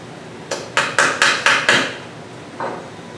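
A glued wooden dowel tapped into a whirligig propeller blade: five quick, close hammer taps in a steady rhythm, then a short pause and one lighter tap.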